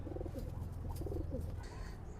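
Soft cooing of high-flying pigeons, quiet and somewhat distant, a few rolling low calls over a muffled background rumble.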